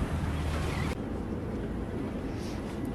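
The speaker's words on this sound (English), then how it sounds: "And there's some big waves." Big ocean waves roll in along a shore where a ship has passed, heard as a steady broadband wash with wind buffeting the microphone, fairly close and continuous.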